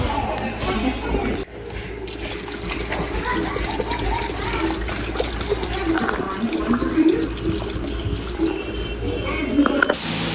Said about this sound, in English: This is how you properly clean chicken, fam. Put another water in there.